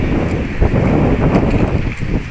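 Cool spring wind buffets a microphone outdoors in Mersin, Turkey, a loud, steady low roar that fills the whole stretch with no talking.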